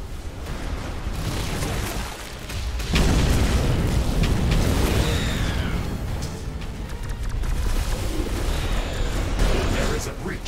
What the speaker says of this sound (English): Base is under attack. One of our buildings has been destroyed.